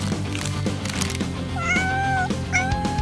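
A pet cat meows twice, drawn-out, rising-and-falling calls that are close and clear over a soft background of music and household noise.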